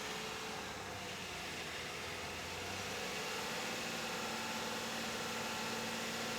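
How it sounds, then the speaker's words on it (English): A car engine recorded with an NTG3 shotgun microphone hums at low, steady idle, faint and somewhat distant, with a slight shift in tone about halfway through and a hissy background. "Sounds like a car."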